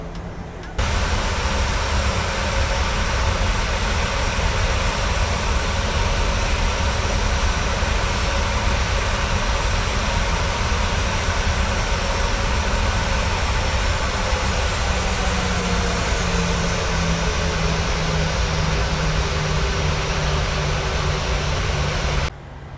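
Airliner engines roar steadily during takeoff in a flight simulator game, a loud, dense, continuous jet rumble with rising and falling tones that fills the whole clip.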